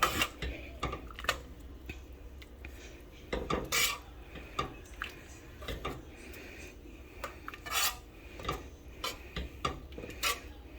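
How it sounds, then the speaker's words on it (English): Beans being mashed with a bean smasher in avocado oil for homemade refried beans, giving repeated soft scraping and clinking of metal against a pot, irregular and close, with no talking. "Add 1 tablespoon or more of avocado oil and mash the beans with your bean smasher"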